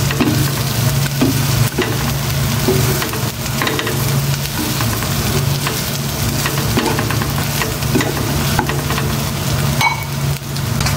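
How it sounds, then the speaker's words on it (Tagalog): Tofu and pork sautéing in a pan before oyster sauce is added, with loud, continuous sizzling and frying plus scraping of the spatula stirring throughout. "Igigisa ko muna ng maigi kasama ng tokwa sa yung pork."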